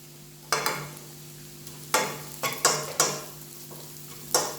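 Garlic and onions sautéing in a pan for dragon chicken: a low sizzle under repeated scraping stirring strokes that come in irregular beats, close and fairly quiet, with no voices.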